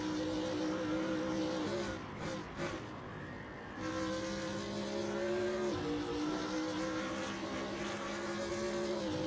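Steady, loud engine drone from a GT3 race car in a racing video game. The pitch rises and shifts as the car accelerates, with a brief dip and gearshift-like break around two to four seconds, and the sound runs continuously under the commentary.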